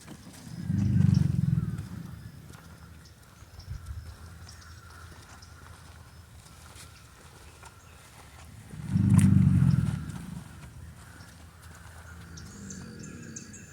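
Alligators bellow in mating season at Circle B Bar Reserve, Florida: two deep, throaty, motor-like roars several seconds apart, each loud and about a second long, over quiet wetland ambience with distant birds.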